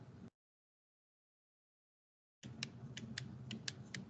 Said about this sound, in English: Oh, CJ, did you start the typing?